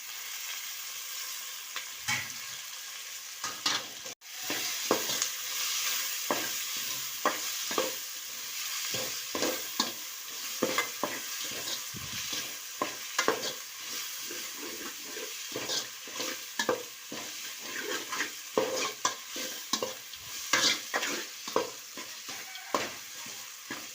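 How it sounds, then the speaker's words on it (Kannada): Onion and tomato fry in a pan with a soft sizzle under repeated scraping stir strokes that come in irregular bursts, close up and moderately loud, with no voices. "ಈರುಳ್ಳಿ ಸ್ವಲ್ಪ ಫ್ರೈ ಆಗಲಿ"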